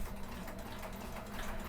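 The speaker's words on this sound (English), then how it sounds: "Hear that sewing machine?" A sewing machine runs in a quick, even chatter of needle strokes, faint and steady throughout, with no voices.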